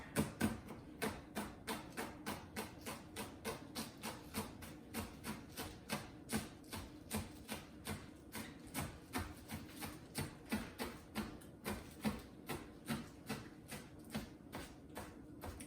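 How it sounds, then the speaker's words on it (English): Four scallions are chopped on a cutting board with a knife, a long, steady run of evenly spaced thuds, close and moderately quiet, with no talking. "We've got 4 little scallions here we're gonna chop."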